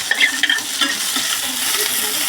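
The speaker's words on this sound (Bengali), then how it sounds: "আমি তেল দিয়ে দিলাম প্রথমে, তেল। এই যে এখন পেঁয়াজ কুচি করা দিয়ে দিব।" Chopped onion hits hot oil and fries with a bright, continuous sizzle, led by a few crackly bursts and scrapes of stirring, then settling into an even hiss with no talking.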